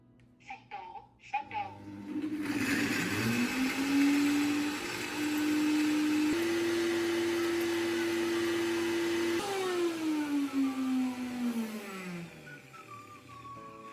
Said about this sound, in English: place the dried ginger pieces into a blender and begin grinding them finely